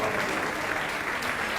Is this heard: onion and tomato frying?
no